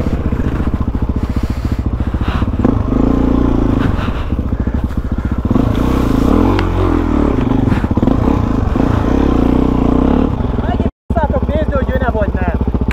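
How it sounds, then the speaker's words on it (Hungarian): Enduro motorcycles, including a Suzuki DRZ400E, a Sherco 450 and a TM 300, ride rough terrain on a hot day, their engines buzzing loud and close with clattering and scraping and speech over them. "Megyünk tovább motorozni"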